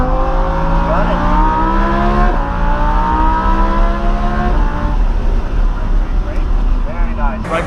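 A Lamborghini or McLaren sports car accelerating hard on a race track, its engine pitch climbing steadily through rising gears, loud and close, with a voice coaching underneath.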